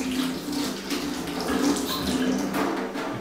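Bleach poured into a drinking glass, a steady liquid stream splashing and running continuously for a few seconds, close and fairly loud with no talking.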